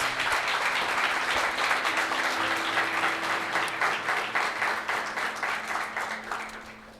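A church congregation applauds in a full, steady roll of clapping that holds for several seconds and then begins to thin out, with a faint low tone sustained underneath.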